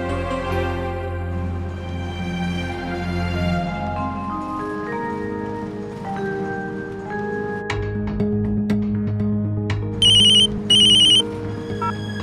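A ringtone for an incoming call on a phone, a melodic electronic tune of sustained tones that changes pitch over several seconds, ending in short bursts of bright, shrill ringing.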